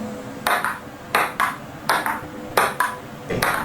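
A table tennis ball clicks sharply against a hard table in a steady back-and-forth rally, five or six crisp bounces at roughly even intervals.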